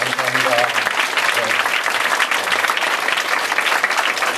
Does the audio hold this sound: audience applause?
yes